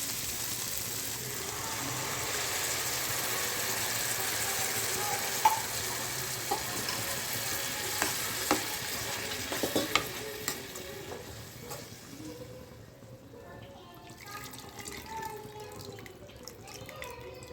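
Food sizzles steadily in a hot pan while a utensil scrapes and stirs now and then, cooking a Kerala-style sardine fish curry, the frying fading down toward the end.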